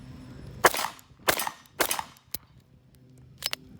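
A Sig 1911 Ultra 9mm pistol fires five sharp outdoor shots in an uneven sequence, each crack loud and close with a short decaying tail, and no voices over them.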